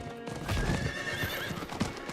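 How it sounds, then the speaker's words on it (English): Horse mount in the video game Diablo IV: clip-clopping hooves and a clear neighing whinny, fairly close and moderately loud over a soft game ambience, with no talking. "I have a horse, bro."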